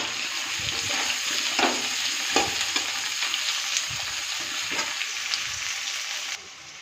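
Potatoes with onions fry in a pan, giving a bright, constant sizzle close up, with intermittent stirring scrapes and clicks before the sound drops off abruptly at the end.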